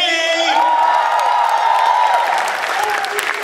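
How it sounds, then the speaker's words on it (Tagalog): A crowd claps and cheers, with shouts rising over the applause before it fades slightly toward the end. "Masigabong palakpakan na may kasamang hiyaw si Ate Kay!"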